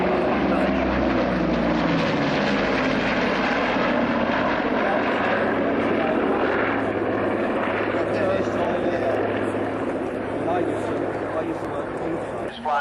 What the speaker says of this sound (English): coming in from the right, enjoy the C-121 Constellation.